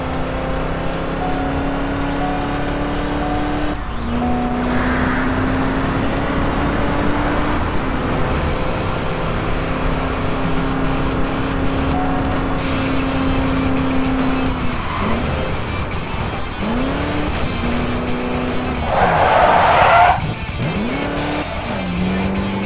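Police car in the Crash Time 5 video game, driven fast. A steady, loud engine roar runs throughout, with repeated tire squeals and skids, and a louder burst near the end.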